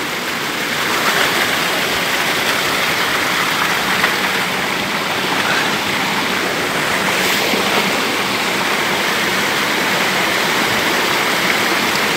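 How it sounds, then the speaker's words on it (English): Loud, continuous rush of water tumbling down a small waterfall on a hiking trail in Killarney, close by and unbroken, with no voices. "that's a nice little waterfall"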